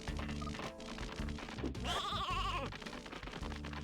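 Video game sheep bleating, several wavering bleats that overlap in the middle of the clip over a busy backdrop of game sound and music, with no talk.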